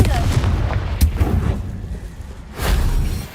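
Confringo, an explosive spell in Hogwarts Legacy, goes off as a couple of sharp booming blasts with short rumbling tails, close and loud, the second burst following after a quieter gap.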